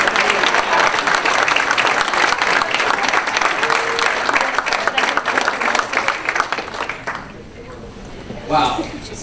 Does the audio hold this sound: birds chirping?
no